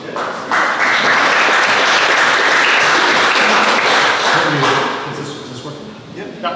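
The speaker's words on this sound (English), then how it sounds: "everyone applauded that" An audience at a talk on a climate report breaks into loud, sustained applause that fills the room, then gradually thins and fades toward the end.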